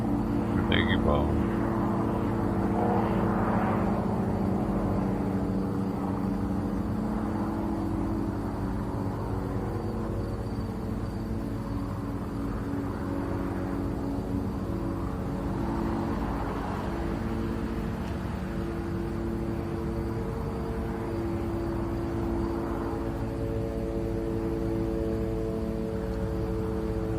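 A drone drones steadily overhead near the Gaza and Israel border, a continuous low buzzing hum that holds at an even level for the whole stretch, with faint background voices.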